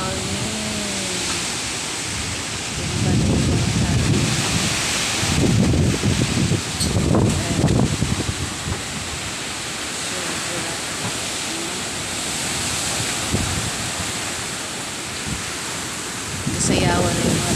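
Strong typhoon wind from Typhoon Paeng roars through Pinggan, Castillo, Marinduque as a constant loud broadband rush, swelling into repeated gusts that thrash leaves nearby, with a voice heard speaking briefly.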